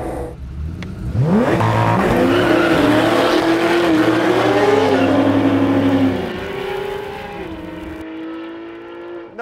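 A Porsche GT3 and a Chevy C10 with a swapped LS3 V8 launch side by side in a drag race, engines snarling up through rising revs with a brief tire chirp, loud and close, then fading as they pull away.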